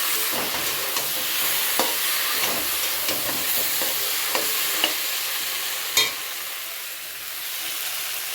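Bottle gourd with prawns sautéing in a pan gives a steady, close frying hiss throughout, with regular scrapes and taps of a spatula stirring about once a second and one louder clack near the end.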